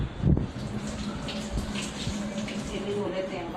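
Carrots being rinsed in water for gajar ka halwa, a steady splashing, sloshing wash close by, with a brief louder splash near the start and continuous watery noise throughout, no talking.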